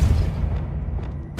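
Depulso spell cast in the video game Hogwarts Legacy, a loud deep boom that rolls out and fades over about a second, with no talk.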